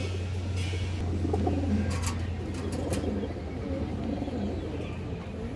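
Pigeons coo softly in a loft among female birds, with low repeated calls under a steady hum and a few brief sharp knocks in the background.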